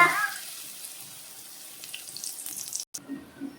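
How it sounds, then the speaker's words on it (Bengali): Night jasmine leaf fritters frying one at a time in hot oil, a soft steady sizzle that fades slightly, then a brief cut and a few faint clinks as the pieces are turned, close and quiet. "আমি একটা একটা ভাজছি আমি একটু উল্টে যাব একদম সূক্ষ্মভাবে ভাজতে হবে"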